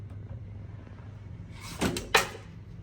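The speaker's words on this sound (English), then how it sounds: "you can actually slide the door closed so you get a mirror instead" A sliding bathroom door in a hotel deluxe room rolls shut with a brief rumble and ends in a sharp close, quiet and nearby, with no talk over it.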